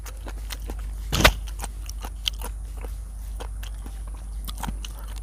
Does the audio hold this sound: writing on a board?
no